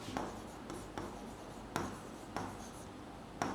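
Pen scratching on paper during a study lesson, quiet close strokes broken by a few sharp taps where the tip lands.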